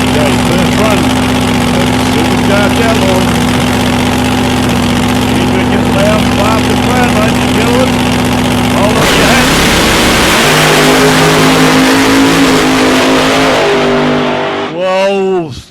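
Supercharged outlaw drag racing car at South Coast Raceway, a loud, steady, hard-edged engine roar that shifts pitch midway and then screams upward in a rising sweep at the end as it launches, with commentators talking over it.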